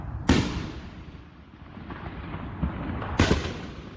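Illegal New Year's Eve fireworks exploding across Phoenix: two sharp, loud bangs a few seconds apart, with a low rumble of more distant blasts continuing between them.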